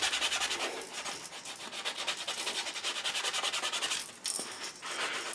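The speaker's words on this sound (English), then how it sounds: "So just get you some sandpaper and just kind of scuff it up a little bit." Fine 320-grit sandpaper scuffing a painted crankbait lure, a fast rhythmic back-and-forth rubbing close up, steady strokes with a brief pause near the end.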